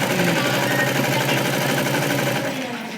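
A sewing machine stitches piping onto a garment neckline, a loud continuous fast whirring motor with a rapid needle rattle, close and steady, easing slightly toward the end.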